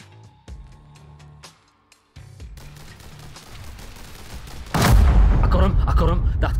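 Video game gunfire in The Hong Kong Massacre comes in quick bursts of sharp shots with brief gaps, then a dense, louder stretch of rapid fire and impacts near the end.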